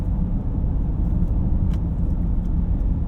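Steady low road rumble and tire noise fill the cabin of a moving 2025 Honda Ridgeline pickup, continuous and even throughout, with no talking.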